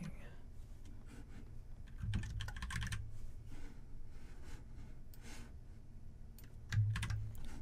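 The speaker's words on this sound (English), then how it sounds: "As soon as I finished typing this out" Keys on a computer keyboard clatter in quick bursts of typing, close and fairly quiet, with pauses between runs and a heavier clack near the end.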